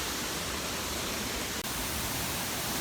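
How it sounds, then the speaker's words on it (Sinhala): Steady roaring rush of a waterfall at Demodara Ella, a broad, unbroken wash of falling water heard close and loud with one brief dip near the middle. "මේ තියෙන්නේ ඇල්ල."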